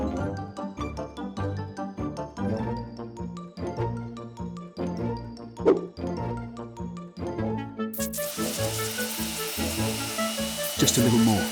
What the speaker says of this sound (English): Now the drill.